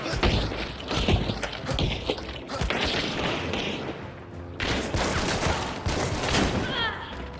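LeMat pistol fired by fanning in the video game Hunt: Showdown: rapid bursts of sharp, booming shots in quick succession, loud and close, with brief gaps between volleys.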